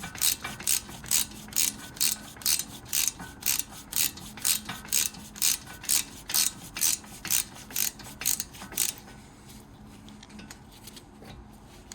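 A ratchet wrench clicks in rapid, regular bursts while loosening the two brake caliper bolts on the front brakes of a Mini Cooper R50, loud and close, with the clicking stopping near the end and leaving quiet room noise.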